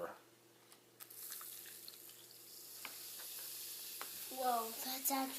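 Dancing powder fizzes and bubbles in liquid during a science experiment, a soft, steady crackling hiss heard up close, with a brief voice near the end.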